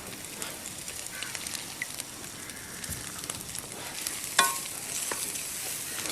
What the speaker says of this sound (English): we'll add in a load of grated coconut and fry that, along with the other bits